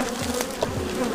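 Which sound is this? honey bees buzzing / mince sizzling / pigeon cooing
honey bees buzzing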